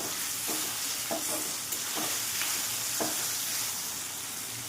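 Bitter gourd pieces frying in hot oil in a pan, a soft continuous sizzle with a few brief stirring scrapes at intervals, close and moderately quiet, with no talking.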